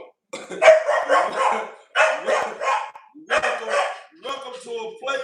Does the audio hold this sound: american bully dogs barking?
yes